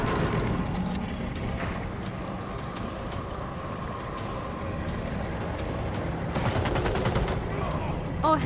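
Gunfire in The Sinking City: dense, sustained bursts of shots over a constant noisy backdrop, growing louder toward the end.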